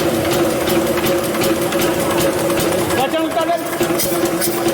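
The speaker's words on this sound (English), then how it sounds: "decompression valve was operated and some sound was listened. This is air leakage sound." Engine being shut down with its decompression valve opened, giving a steady loud hiss of escaping air over the running mechanical drone, with a brief change near the end as the engine winds down.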